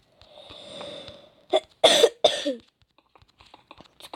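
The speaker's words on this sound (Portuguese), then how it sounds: "Desculpa aí pela tosse." A few sharp coughs burst out close by in quick succession after a faint whine, then soft tapping and small clicks follow.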